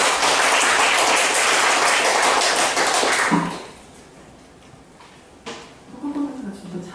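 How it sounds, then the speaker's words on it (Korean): Loud audience applause at a university peace-forum talk concert in Korea fills the opening seconds with dense clapping, then stops abruptly and gives way to quieter room sound with scattered voices. "여러분 큰 박수 부탁드립니다"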